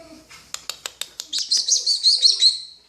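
A pet parrot calls with a series of sharp, evenly spaced clicks or chirps, then breaks into a louder, rapid run of shrill whistling squawks, close and clear.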